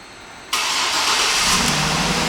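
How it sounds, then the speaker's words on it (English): A 2009 Cadillac Escalade ESV started by remote: quiet outdoor background, then the engine abruptly cranks and catches, settling into a loud, steady idle with a brief rev up close. "One of the many options in this vehicle is a remote start, and I'll show you how that works."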